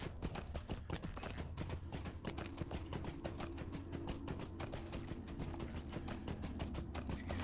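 Horse hooves clip-clop steadily in Lord of the Rings Online, a continuous rapid rhythm of hoofbeats carrying through the whole stretch, close and moderately loud over a low ambient game bed.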